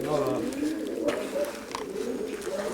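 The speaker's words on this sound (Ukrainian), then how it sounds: "Голуби хороші." Pigeons cooing in a winter dovecote, a continuous layered murmur of low throaty coos from several birds close by, with voices talking intermittently over it.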